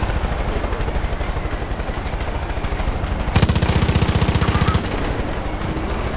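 Rapid automatic gunfire aimed at a helicopter in Far Cry 5, rattling bursts layered over the steady chopping of rotor blades, with a louder sustained burst in the middle, all close and intense.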